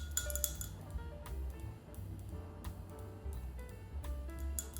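A teacup and dishes clink repeatedly during a tea break, bright sharp taps at varied intervals over a low steady background hum, with no talking.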